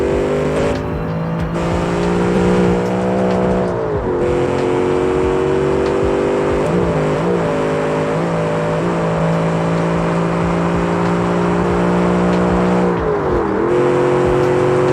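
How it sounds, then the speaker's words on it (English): Simulated car engine in the game Automation, revving hard in low gear with wheelspin, a steady loud harmonic drone that rises and dips through gear changes and throttle lifts, with no talk over it. "just lay down the throttle in first or second gear, and you can get them tires spinning"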